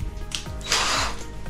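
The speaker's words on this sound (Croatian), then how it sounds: "za rupe se buši sa fi šesticom borerom" A power drill bores holes with a 6 mm bit while a Shad SH58X case is fitted to a Suzuki V-Strom 800RE, giving one short, loud whirring burst of under half a second amid workshop noise.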